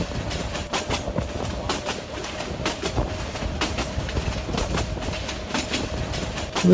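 A Suburna Express train runs steadily in the Train Sim Bangladesh game, a continuous rumbling roll with rhythmic clickety-clack of wheels over rail joints, fairly loud and unbroken, with no talking.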